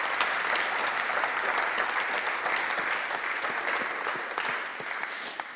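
An audience applauds a panel guest after a question round at a debate on primary-school maths teaching, with even, sustained clapping filling the room for several seconds at moderate loudness.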